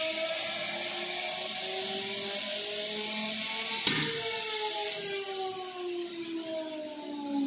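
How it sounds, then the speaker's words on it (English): A cutting wheel test machine spins a cutting wheel up toward bursting speed, producing a loud, continuous high-pitched whine with tones that climb and shift as the speed rises, plus one brief sharp crack partway through. "now the machines start running"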